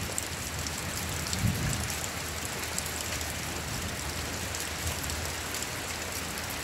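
Rain falling steadily after a long hot spell, a dense even hiss of drops with one brief low rumble near the start.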